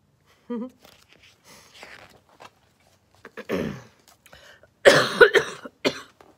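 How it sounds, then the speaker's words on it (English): Several close coughs in quick bursts, loudest toward the end, with soft breathy sounds between them. "Excuse me, I keep coughing."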